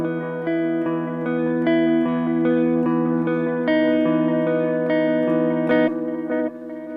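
Distorted electric guitar chords repeat with a tape-style echo from a Line 6 DL4 emulating an RE-101 Space Echo, each strum trailing into fading repeats, played steadily with no talking.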